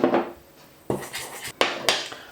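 A spoon stirs plain flour and salt in a mixing bowl for vegan pastry, making a few separate scraping clinks against the bowl, close and fairly quiet.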